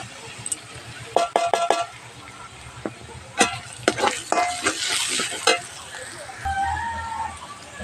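Ground coriander, cumin and dry chilli sizzle in oil in a pan while a spoon scrapes and stirs in quick bursts, loud and close, the frying settling into a steadier hiss toward the end.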